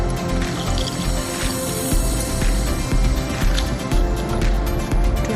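Water poured into a cooking pot of mutton with bay leaf and a little sugar, a continuous close splashing and gurgling fill with faint clinks, no voices.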